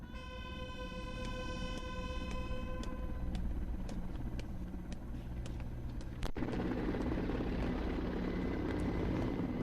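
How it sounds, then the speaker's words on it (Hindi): A formation of Indian Air Force helicopters flies over Hindon air base during the Air Force Day parade, with a loud, sustained rotor and engine drone, a whining tone and a sharp thump partway through, and no speech. "155 helicopter unit trooping the Indian Air Force ensign formation"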